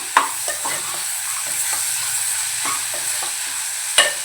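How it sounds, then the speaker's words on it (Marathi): Finely chopped tomato tipped into a pan of frying dal-and-onion mixture and stirred, brisk scraping strokes over a low sizzle, close by, with a sharp clatter near the start and another near the end. "आपण जो टोमॅटो घेतलाय बारीक चिरून तो घालूया मिक्स करून घेऊया"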